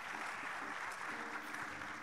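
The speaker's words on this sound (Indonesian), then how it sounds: "Boleh kasih tepuk tangan dulu biar lebih semangat ya." Conference attendees give a dense, continuous round of applause during a session on retro music arrangement. The clapping is fairly soft and stays steady throughout the short stretch.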